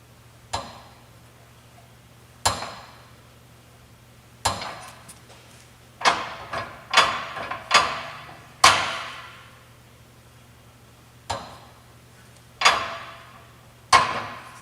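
Planter parallel arm with rebuilt flange bushings clanking as the row unit is lifted, giving sharp single metallic clanks at irregular intervals, some in quick clusters, each ringing briefly under a low steady hum, no talk.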